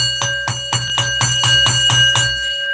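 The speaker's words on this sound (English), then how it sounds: "Let me hear that super chat bell ring off." A bell rung about ten times in quick, steady succession, each strike ringing bright and loud with a clear sustained tone, heard alone.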